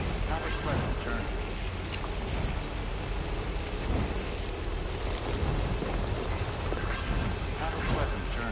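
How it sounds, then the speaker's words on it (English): Steady rain in Death Stranding, a constant hiss of falling water with low rumbles like thunder, heard continuously with a voice speaking over it. "That has to be the rain."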